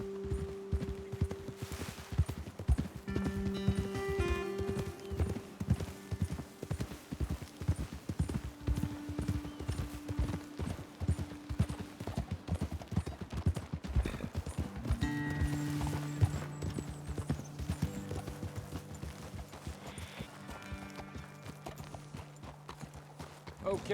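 Steady horse hoofbeats clip-clop continuously over a long stretch in the video game Red Dead Redemption 2, with scattered mechanical clatter and sustained musical tones underneath.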